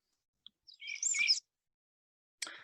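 Short, sweet descending phrase of a willow warbler, heard once clearly and briefly, followed by the start of a second phrase after a pause, close and quiet against a silent background.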